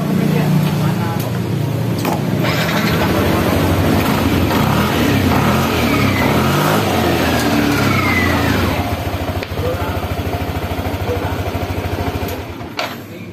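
A Yamaha NMAX scooter engine runs close by after CVT maintenance, idling with a steady chugging rumble that lasts throughout, a voice speaking faintly over it.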